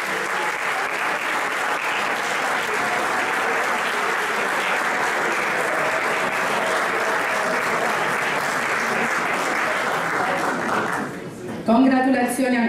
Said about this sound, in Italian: Un applauso per Antonio.